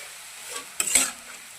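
Sliced potatoes fry in a pan with a faint, low sizzle, and a quick pair of stirring scrapes bursts out near the middle before it settles back to a soft hiss.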